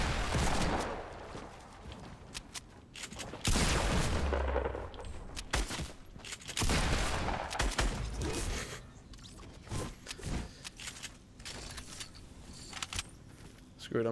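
Sniper fire and other gunshots in a shooter video game, with loud sharp cracks and bursts over metallic clatter and movement sounds, dense and close.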